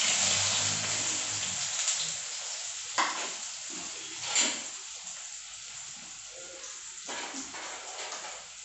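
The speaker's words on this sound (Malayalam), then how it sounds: "അപ്പം ഉലുവ മൂത്ത് വന്ന് ഇനി സവാള ഇട്ട് കൊടുക്കുക." Sliced onions dropped into hot oil with fenugreek seeds give a steady, close sizzle and frying hiss, with a few louder bursts of spatter and stirring, and no talking.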